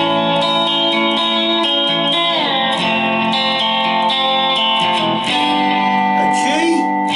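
Lap steel guitar playing an F on the lower end, with loud sustained sliding tones that ring rich in overtones and glide between pitches, up close with no talking.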